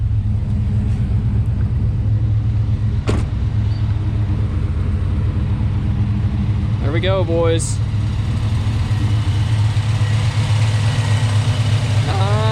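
A 550-horsepower 377 stroker V8 in a pickup truck idles with a deep, steady rumble through dual 2.5-inch MagnaFlow exhausts, close and loud, while someone briefly speaks over it.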